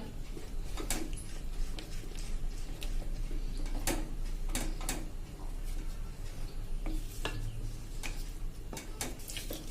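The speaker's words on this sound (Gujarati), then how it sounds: "ચલાવતા રહેશું સ્લો ફ્લેમ ઉપર જ" A spoon scrapes and taps against the pan while kada prasad made from flour and ghee is stirred over a slow flame, producing irregular sharp clicks and knocks over a quiet, low background.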